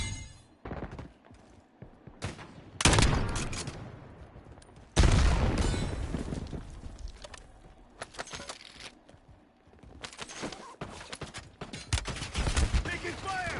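Bursts of gunfire from the Warzone video game, heavy volleys near 3 and 5 seconds followed by scattered shots and rattling between quieter gaps, with brief voices in the mix.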